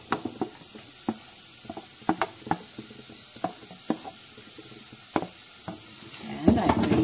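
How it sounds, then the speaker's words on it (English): A wok of homemade carrot pasta, tossed with its boiled pasta water, gets stirred in quick irregular strokes: close, sharp scrapes and clinks of the utensil against the pan over a faint sizzle, with a louder clattering burst at the end. "Now I'm going to put all the pastas into this wok."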